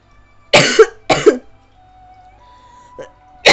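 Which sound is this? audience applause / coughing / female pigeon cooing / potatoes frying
coughing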